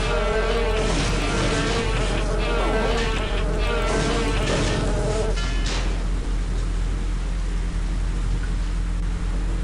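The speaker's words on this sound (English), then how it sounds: "More mosquitoes have been alerted." Mosquitoes drone and whine in the video game Daikatana, a dense buzzing swarm that is loud for the first half and then thins to a quieter steady hum, with no talking.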